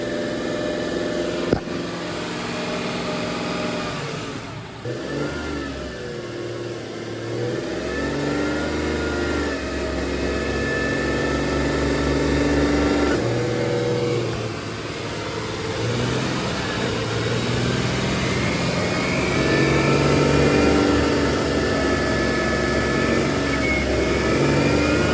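Subaru H6 Outback engine in a two-wheel-drive conversion with a reverse-driven 5EAT automatic transmission, heard from inside as a loud continuous drone with shifting gear tones and engine pitch changes while driving or held at speed.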